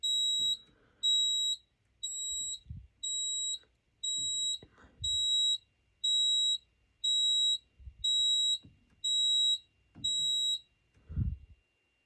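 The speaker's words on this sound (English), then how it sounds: "See, that last pre-alarm went away" A smoke detector on a fire alarm system sounds a pre-alarm, a steady series of about a dozen loud, evenly spaced high-pitched beeps with faint thumps and movement in between.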